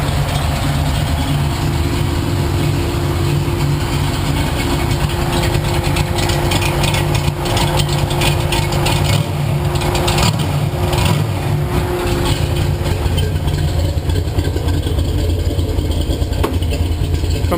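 Panoz car engine idling steadily with an added pulley, cooling fans running alongside, a loud continuous mechanical drone with no speech.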